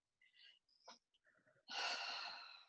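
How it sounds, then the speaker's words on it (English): A group of people yawn together on request, producing a string of breathy gasps and drawn-out sighs that rise to one long, louder exhaling yawn at the end. "Everybody make yawning sounds."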